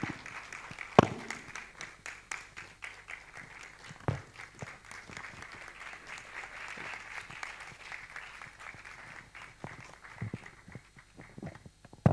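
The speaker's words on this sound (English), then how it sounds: "Please let's give him a round of applause." Dense, sustained applause from a conference audience greeting a speaker before his presentation, steady clapping filling the room for about twelve seconds with a few sharper individual claps standing out.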